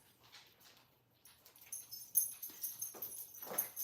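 Pet dogs whimper and whine softly at bedtime indoors, faint high cries rising toward the end.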